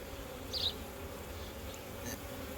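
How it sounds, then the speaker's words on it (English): A faint, steady honeybee drone around a hive after an afterswarm, with a brief closer buzz flaring up once, heard alone over a low background hum. "we've got ourselves a bunch of bees that don't look like they are ready to go anywhere"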